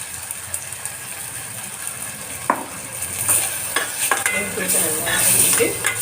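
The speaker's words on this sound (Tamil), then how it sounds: "இது நல்லா வதங்கட்டும்" Ingredients for a fish soup sautéing in a pan with turmeric powder, giving a steady low sizzle with scattered stirring scrapes and clicks that grow a little busier toward the end; no talking.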